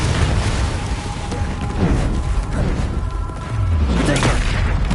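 Confringo blasting spell going off in Hogwarts Legacy, a dense run of booming explosive bursts with rumbling low end through the whole stretch, loud and close amid busy combat noise.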